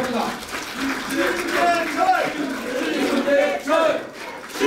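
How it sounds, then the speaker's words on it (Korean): A political rally crowd applauds and chants a candidate's name in unison, loud and close, with rhythmic shouted syllables repeating over a steady wash of clapping and cheering. "힘찬 박수와 연호로 신대철 후보를 맞이해 주시기 바랍니다."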